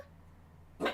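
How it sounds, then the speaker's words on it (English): A single short dog bark, fairly near, rising out of a low steady hum near the end. "you can hear the dogs barking who are in the house"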